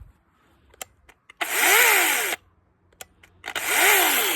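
Two short bursts from a chainsaw bought from Amazon Japan, run in testing while cutting golden willow: each revs up hard, holds a loud close whine for about a second, then cuts off, with quiet clicks in the gaps.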